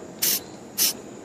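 Two short hissing bursts of flat black spray paint from an aerosol can, aimed into the cracks of a homemade Halloween tombstone cake decoration, close and evenly spaced with quiet pauses between.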